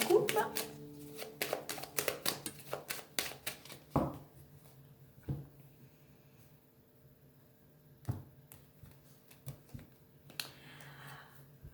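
A deck of tarot cards is shuffled and cut close up, a quick run of riffling card slaps followed by a few sparse taps, with a voice speaking at points.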